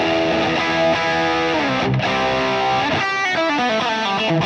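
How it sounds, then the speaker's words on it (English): Overdriven Telecaster electric guitar through a Boss IR-200 amp-modeling patch, playing sustained distorted chords and a sliding phrase, loud and continuous with a chorus-like shimmer and no voices. "The sort of sound that I want from this is sort of classic sort of Telecaster sound"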